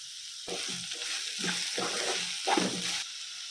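Sliced onion and capsicum fry in a pan, giving a close, continuous sizzle broken by several rhythmic bursts of stirring.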